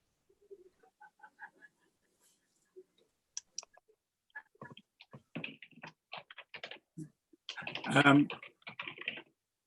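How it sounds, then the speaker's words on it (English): Scattered soft keyboard taps, irregular and fairly faint, with a burst of louder clatter near the end and some talking mixed in. "I can hear some typing"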